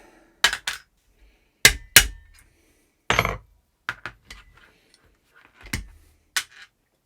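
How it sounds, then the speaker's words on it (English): Small tool tapping out the retaining pin of the mock bolt release on a Cyma CM.009E XM177 airsoft rifle. Sharp metallic knocks and clinks sound close in sparse, irregular clusters with silence between them. "Mock bolt release out, do that by just pushing through the retaining pin with a small tool."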